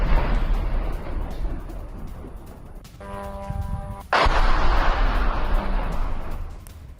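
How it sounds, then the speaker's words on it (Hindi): A drone strike near a railway station in Rostov sets off a sudden loud blast, preceded by a brief whining tone, followed by a sustained rumbling roar in the outdoor night air. "यूक्रेन के विनाशक हमले से एक बड़ा धमाका हुआ है और यह हमला कैप्चर भी हुआ"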